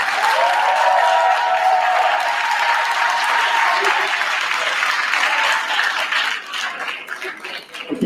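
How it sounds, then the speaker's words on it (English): A debate audience applauds: dense, sustained clapping from a large crowd that holds steady for several seconds before thinning out and fading near the end. "please applaud"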